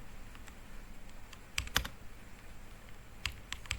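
Keystrokes on a computer keyboard while entering a command, a few sparse clicks then a quick cluster of taps and a later burst of several keys, close and fairly quiet.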